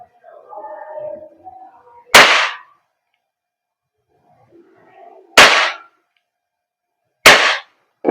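Three sharp, loud cracks come from an Umarex Glock 17 Gen 5 gas blowback airsoft pistol made by VFC Taiwan, fired several seconds apart, with soft murmuring between the shots.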